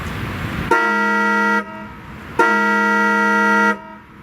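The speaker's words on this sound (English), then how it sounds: "The next interesting quirk is the Maybach's horn" Maybach 57S car horn blaring twice at close range, two long harmonic honks, each about a second long, separated by a short pause.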